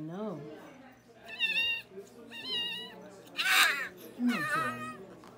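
A pet cat meows several times at a vet visit, a series of clear, moderately loud drawn-out meows with short pauses between them.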